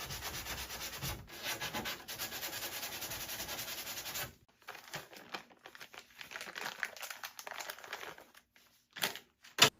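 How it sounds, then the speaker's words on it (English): Hand sanding on a wooden dresser makes a quiet, rapid scratchy rubbing in close strokes. A steady stretch gives way to more broken, intermittent passes, with a brief louder knock near the end. "I sanded everything smooth."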